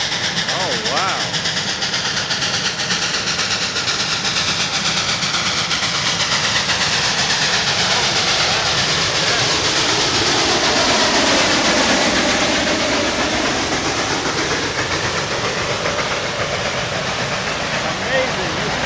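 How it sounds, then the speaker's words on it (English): A steam train rolls past close by, a loud, continuous roar and rumble of engine and carriages that swells and holds throughout, with excited voices talking over it. "Here comes the steam train."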